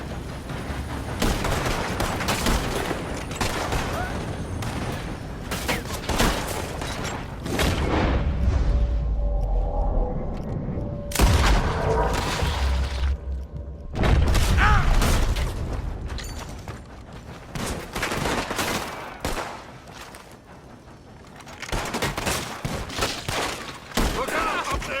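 A shootout in Red Dead Redemption 2 brings bursts of rapid gunfire and heavy booms, separated by brief quieter gaps, with voices calling out between volleys.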